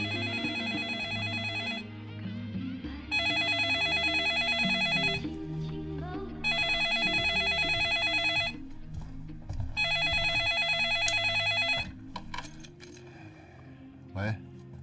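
A telephone rings in four long electronic bursts with brief gaps between them, loud and close, over low background music in a TV drama scene.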